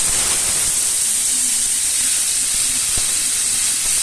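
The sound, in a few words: spice paste sizzling in hot oil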